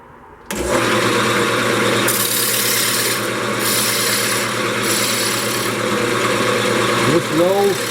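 Spindle gouge cutting a spinning wood workpiece on a lathe, a continuous scraping, rasping hiss over the steady motor hum, in bursts that shift slightly in intensity, close and loud.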